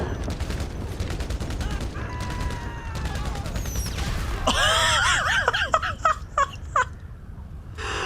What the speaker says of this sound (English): That stupid firework, man.